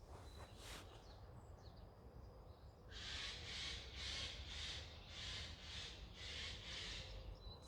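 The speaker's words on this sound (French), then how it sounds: "C'est pas très sympa cet oiseau-là." Bird calls ring out faintly in a run of evenly spaced, rasping bursts, about eight in a row, over a low background hum with no speech.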